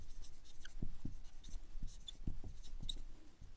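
Pen or chalk strokes are written during a maths lesson, a quiet series of short scratchy taps and strokes in an irregular rhythm, heard close and alone.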